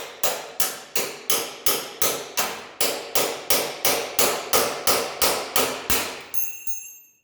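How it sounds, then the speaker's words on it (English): A hammer strikes a chisel wedged between spot-welded metal pieces about sixteen times in a steady, evenly spaced rhythm, each blow loud and ringing, then a short clatter as the metal pops loose. "All right, so now I'm going to get my chisel. Get my chisel in there. Drive it in."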